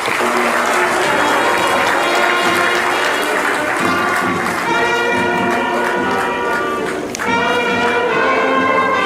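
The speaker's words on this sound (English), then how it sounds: "Can we give him a resounding applause?" Audience applause at a political gathering in Nigeria, a steady wash of clapping mixed with crowd noise and a tonal musical or chanting layer running through it.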